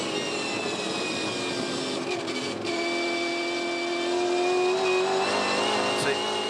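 High-pitched V8 Supercar engine held on throttle at the 2015 Ipswich SuperSprint race, rising steadily in pitch as it accelerates, loud and continuous with no talking.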